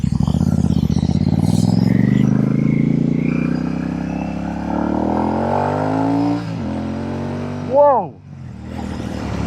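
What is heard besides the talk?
Royal Enfield Shotgun 650 motorcycle revving with AEW exhaust pipes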